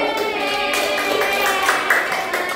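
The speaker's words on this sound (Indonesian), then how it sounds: "Ya, kasih tepuk tangan." A classroom of students claps hands together in a loud, dense burst of applause that keeps going steadily from start to finish.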